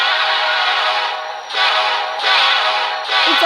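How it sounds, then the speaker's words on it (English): A Union Pacific train horn blares loud and close in sustained blasts, briefly dipping around the one-and-a-half and three-second marks before sounding again, with the rumble of the passing train beneath. "Let's hear the horn."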